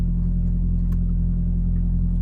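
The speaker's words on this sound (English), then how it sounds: "Today, I'm actually warming up the car." A car engine idles while warming up before an oil change, a steady low rumbling hum close by and unchanging throughout, with a faint click partway through and no voices.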